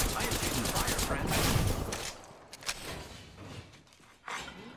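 Gunfire rattles in a solo match of the video game Apex Legends, dense bursts loud over the first two seconds, then scattered sharper single shots and a final burst.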